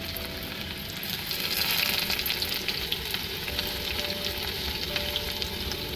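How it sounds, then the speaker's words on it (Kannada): Steady crackling sizzle of mustard seeds popping in hot oil for tempering, continuous and close, with a constant hiss and no voices. "ಎಣ್ಣೆ ಕಾದ್ಮೇಲೆ ಅದಕ್ಕೆ ನಾನು ಸಾಸಿವೆ ಹಾಕ್ಕೊಳ್ತಾ ಇದ್ದೀನಿ."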